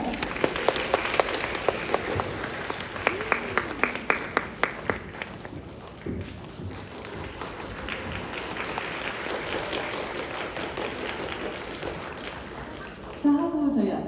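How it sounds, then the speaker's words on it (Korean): Audience applause at a mountain-village film festival guest talk for a youth drama, sharp claps rising at the start then settling into steady, fairly close clapping that swells again near the end. "큰 박수 부탁드립니다."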